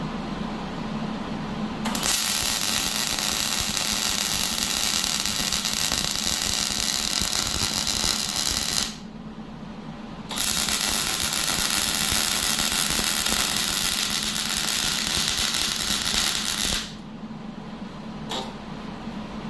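A workshop exhaust fan runs with a loud, steady broadband whoosh that cuts out briefly twice and then starts again, with no talking.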